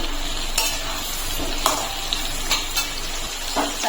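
Pumpkin and potato fry in hot oil with a pinch of asafoetida, a continuous close sizzle broken by several sharp scraping strokes of a spatula as the pan is stirred.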